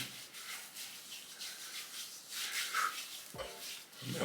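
Facial cleanser is rubbed over skin and a beard with the hands, a soft, close, continuous scrubbing rustle in uneven strokes.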